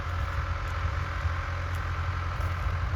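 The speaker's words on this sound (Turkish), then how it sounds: "Traktörümüz geliyor." A New Holland TD85 D tractor engine runs steadily at idle during soybean sowing in a field, a constant low diesel rumble with a faint high whine, heard alone and unchanging.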